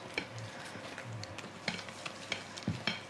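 Beaten egg whites being gently folded into a ricotta-lemon mousse, a soft, quiet stirring and scraping in a bowl with light repeated taps of the utensil against the side.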